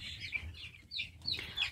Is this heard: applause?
no